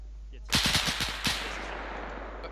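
A burst of rapid machine-gun fire from a half-track in the Arma 3 video game, several quick shots in a row, fairly loud and followed by a lingering rumble; voices murmur faintly underneath.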